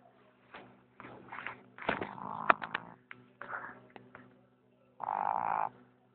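A pet snoring close by makes croaky, rasping bursts at an irregular pace with short gaps between them, then finishes with one longer, rumbling snore.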